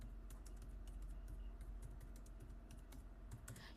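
Steady, quick typing on a computer keyboard: a rapid run of close, soft key clicks with brief pauses, heard alone with no talking.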